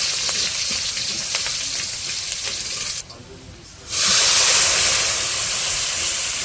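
Crushed garlic hits hot oil already seasoned with panch phoron, giving a steady loud sizzle that dips briefly, then flares up louder and keeps hissing.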